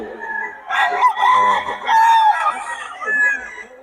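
A gamefowl stag rooster crows up close, loud and strained, in a couple of drawn-out calls with clucking between them, at a fowl market in Bocaue.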